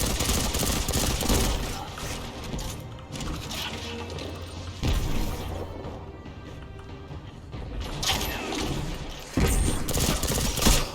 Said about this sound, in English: Remember, you have full auto. You don't have to click every time you want to fire.